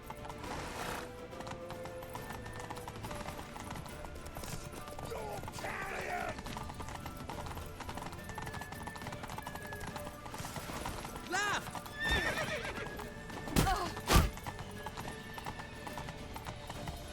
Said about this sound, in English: Grab a horse!